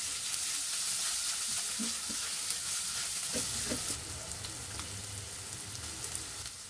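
Boiled chicken pieces mixed with turmeric, chili powder and roasted cumin sizzle and fry in a pan while being stirred, a steady close hiss with occasional scraping knocks from the spoon and no voices.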